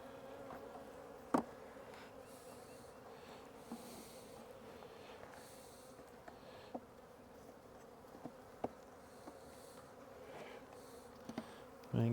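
Honey bees buzzing around an opened hive being prepped for spring splits: a soft continuous hum of many bees, with occasional faint clicks and knocks of frames being handled.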